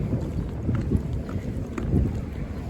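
Strong wind buffets a microphone with a low, rumbling roar that surges in gusts, while faint clatter sounds in the background.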